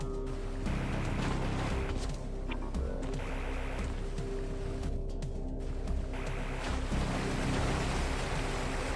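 Steady rushing water from waterfalls in tunnels in the video game AM2R, a dense continuous hiss that stays loud and even throughout with no voices.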